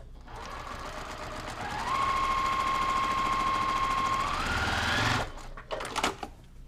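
An electric sewing machine stitching a quilt seam, its motor whirring up into a fast steady needle clatter that holds for a few seconds, then slows and stops, followed by brief handling noises.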